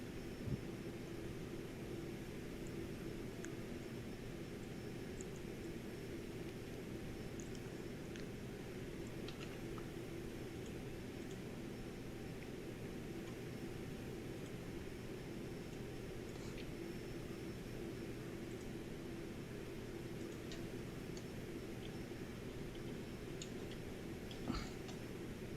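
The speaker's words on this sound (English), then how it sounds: "Pretty noisy engine as well at the front." A Cirrus Vision Jet engine drones in a steady, low, broadband roar with a faint whine, unbroken and fairly quiet, without speech.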